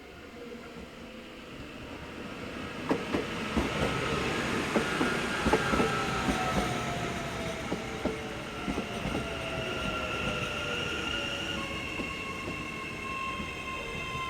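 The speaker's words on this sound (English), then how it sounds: "Here comes another train on her way to Pukekohe." AM class electric multiple-unit train, number 1236, running through a newly built New Zealand railway station on the line to Pukekohe, wheels clicking over rail joints and a rising then fading motor whine as it passes at moderate distance.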